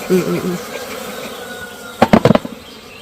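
Honey bees buzz around an opened hive during honey harvesting, a close, wavering drone at first, followed later by a quick cluster of sharp taps and knocks.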